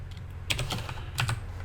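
Computer keyboard being typed on, a few quick bursts of crisp key clicks separated by short gaps, close and fairly quiet over a low steady hum.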